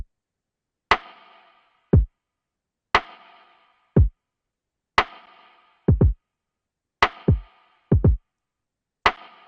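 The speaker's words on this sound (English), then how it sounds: "the actual kit drums themselves are extremely simple" A very simple drum kit beat with the rest of the percussion muted: alternating kick and snare-like hits in a steady, sparse pattern, with short double hits near the end, loud and alone.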